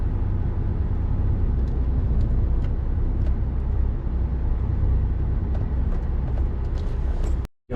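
A truck driving through heavy traffic, a continuous low engine rumble and road noise with faint passing clatters, cutting off abruptly near the end.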